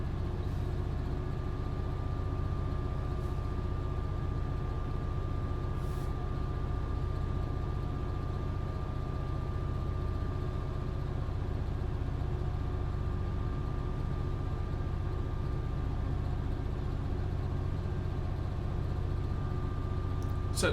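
A GBRF Class 66 heavy freight locomotive in Train Sim World 2021, running from Felixstowe South to Ipswich, gives a steady low diesel drone with a constant engine hum that stays even and unbroken throughout.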